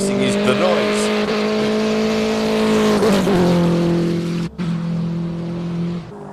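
Classic race car at the Simola hill climb, a loud sustained engine roar with revving pitch shifts, a brief dip and a cut as the gear changes, while a commentator talks over it throughout.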